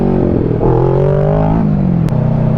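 Kawasaki Ninja 650 sports-touring motorcycle revving hard as it pulls up for a wheelie, a loud close engine note rising in pitch, then easing and climbing again over a few seconds, with no talking.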